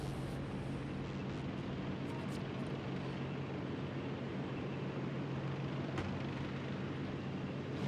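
A tiny aircraft in the video game Factorio Space Age drones steadily with a continuous airy engine hum, even and unbroken, with no voices over it.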